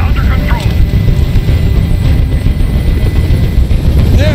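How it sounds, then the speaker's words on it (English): A helicopter drones loudly and continuously in an interactive movie video game, a steady thumping rotor rumble that fills the scene, close and unbroken, with voices speaking over it. "I can't stand that noise anymore. Tell that helicopter to get out of here."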